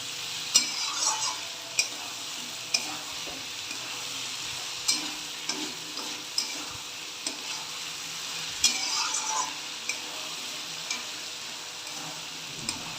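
Tomatoes and garlic fry in a pan with a steady, close sizzle, while a spoon scrapes and stirs through the softening mixture, knocking against the pan every second or so.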